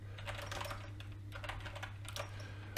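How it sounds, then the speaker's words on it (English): Fast typing on a broken chiclet-style computer keyboard produces a dense run of light key clicks over a low electrical hum, close and fairly quiet. "sorry for all the noise from the keyboard"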